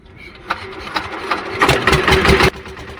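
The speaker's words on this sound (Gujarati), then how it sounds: "હવે એન્જિન ચાલુ કર" A boat engine coughs and catches, sputtering a few times before revving up into a louder rattling run, then dropping off abruptly.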